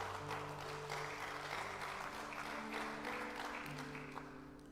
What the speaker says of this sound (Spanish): Vamos, denle ese aplauso a Jesús.